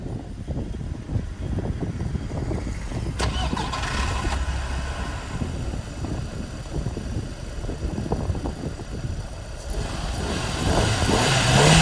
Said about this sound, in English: It's time to get the car started for the first time with the new plugs.